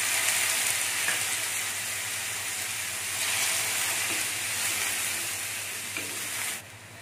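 Water splashed into a wok of green beans stir-frying with garlic, a loud, bright, continuous sizzle and hiss up close that eases slightly before cutting off near the end, with no talking.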